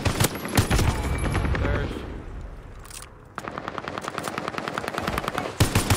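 Rapid automatic gunfire from a Call of Duty Warzone match, loud sustained bursts that drop out briefly and then resume, with a voice speaking over the shooting.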